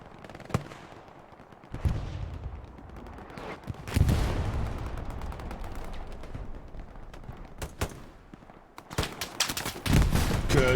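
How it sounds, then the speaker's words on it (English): Machine gun fire in a competitive multiplayer war video game, with sharp shots and bursts at varying distances, some loud and close, over a rumbling battlefield backdrop. "Good support from that MG."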